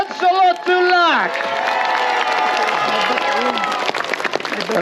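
Crowd applause and cheering for jousting knights at a medieval tournament, a sustained roar of clapping that swells after a voice announces the champions, with shouts rising over it.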